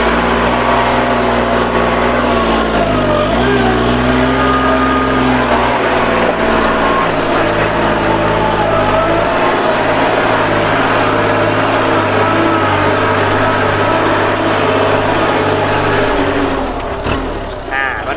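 A used Kubota L3608 SP tractor's diesel engine runs steadily and loud nearby, a constant low harmonic drone with a brief pitch dip early on, then tapering at the end; no talk over it.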